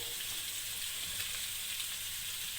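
Red and green capsicum with onion lightly frying in a pan, giving a soft, even, continuous sizzle close by with no talking.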